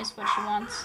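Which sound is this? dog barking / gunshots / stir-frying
dog barking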